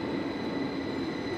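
A Swiss train pulls into a station in Zurich, a steady, loud rumbling roar with a faint high whine above it, continuous throughout with no voices.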